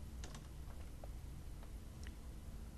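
Faint, sparse keystrokes tap on a computer keyboard as a search term is entered, a few quiet clicks spread over a few seconds against a low background hum.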